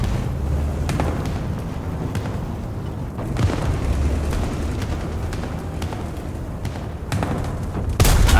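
Gunfire and booming cannon shots in the War Thunder battle game, a steady dense rumble of engine noise with repeated sharp distant blasts, one louder burst near the end.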